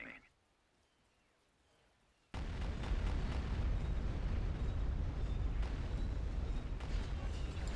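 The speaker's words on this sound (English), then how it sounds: "Bombardment incoming." Orbital bombardment from a Star Wars: Empire at War space battle (Phoenix Rising mod) begins after a short quiet stretch, then becomes a loud, continuous roar of overlapping blasts and booms lasting to the end.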